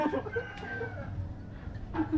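A rooster crows faintly in the distance, with soft clucking and outdoor background noise; no clear speech.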